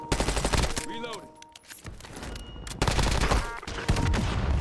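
Rapid gunfire bursts from a shooter video game firefight, loud and dense with overlapping shots, chattering automatic fire and brief pauses, mixed with game sounds and a voice in the background.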